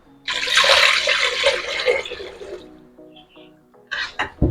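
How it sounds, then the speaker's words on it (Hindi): Around one litre of water poured into a pot for pakora kadhi, a loud splashing pour of roughly two seconds that tapers off and ends with a few short clatters of the pot. "और इसमें पानी डालेंगे हम 1 लीटर।"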